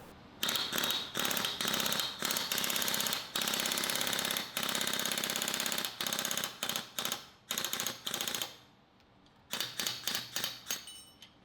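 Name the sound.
air hammer driving out bronze bushings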